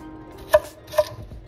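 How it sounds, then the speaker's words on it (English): A knife chops onions into fine pieces on a board: two sharp, close knocks about half a second apart, then a softer third tap, with nothing else heard. "we're gonna start off by chopping the onions into fine pieces"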